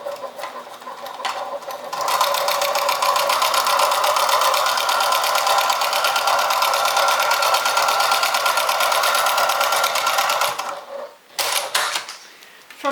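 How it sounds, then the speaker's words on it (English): A sewing machine runs top stitching along the top edge of an accordion pocket on a makeup vanity bag, holding one continuous loud, even whir for several seconds before stopping, with a few handling clicks. "You're just going to top stitch along the top edge of your accordion pocket."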